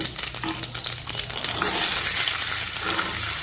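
Mustard seeds crackling and spluttering in hot oil for a tamarind-style kulambu, a dense close hiss of popping that swells louder and steadier halfway through, with no voices.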